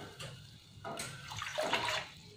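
Water is poured into a pan of milk for sheera, a few short splashing bursts that swell louder toward the end, quiet and close with no talk.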